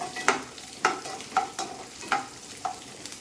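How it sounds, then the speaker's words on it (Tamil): Garlic sautéing on a low flame in a pan for garlic kuzhambu, with a spatula scraping through it in steady strokes about every half second over a soft frying sizzle. "பூண்டை போட்டு நல்லா வதக்குங்க"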